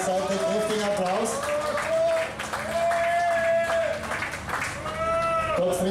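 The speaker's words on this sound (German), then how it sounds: "kräftigen Applaus" A crowd claps steadily for rally crew Thomas Regner and Gottfried Witzmann, car number 89, at the start of the 26th Herbst Rallye 2023, with the applause running beneath a loud announcer's voice throughout.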